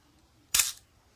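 Soviet Lubitel 2 twin-lens reflex camera shutter fired at a slow 1/15 speed, a single crisp mechanical snap with a short whirring tail, close and alone against near silence.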